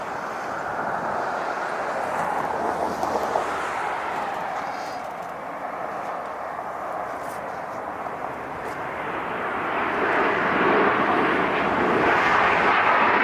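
A Lufthansa Boeing 747 in special 100th anniversary paint lands at LAX, its broad steady jet roar rising louder near the end; a voice speaks faintly underneath.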